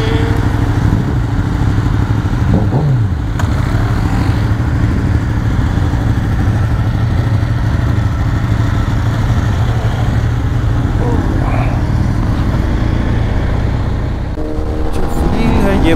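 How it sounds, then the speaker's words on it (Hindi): A BMW R1250 GSA Anniversary Edition with a boxer engine rides along roads near Bangalore, its steady engine drone and wind rush loud and close throughout, with a rider talking over it at times. "जैसे ही इस बाइक को स्टार्ट करते हो तो फील होता है बॉक्सर इंजन का"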